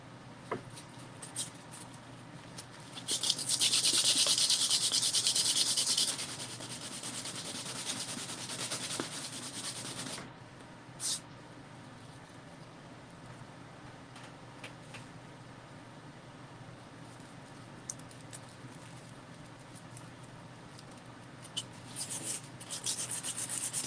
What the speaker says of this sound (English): I'm not getting anywhere with sanding.